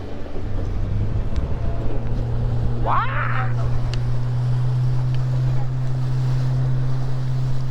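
Motorboat crossing a lake in Meghalaya, a steady engine drone with a sustained low hum, water rushing and wind noise throughout, and a brief squealing call partway through.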